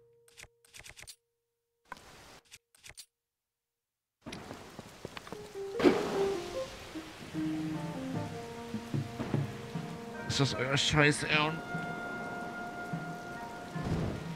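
Steady rain pours over the Labella swamps in Zelda: Tears of the Kingdom, with rumbling thunder rolling in partway through, preceded by a few seconds of near silence and a short spoken line.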